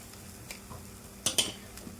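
Gongura leaves stir-fried with salt in a pan, giving quiet scraping and a few sharp metallic clinks of a spatula against the pan. The clinks come in a brief cluster over a low background.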